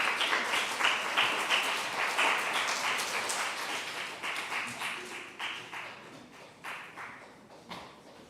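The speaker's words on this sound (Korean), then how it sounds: "나오실 때 큰 박수 부탁드리겠습니다" Congregation at a Korean church youth Sunday service applauds as an elder comes forward, a moderate clapping that swells and then thins out over several seconds.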